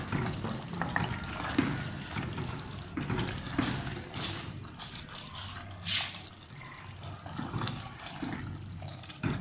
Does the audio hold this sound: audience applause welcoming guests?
no